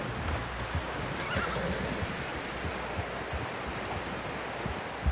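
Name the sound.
horse neighing in Red Dead Redemption 2 video game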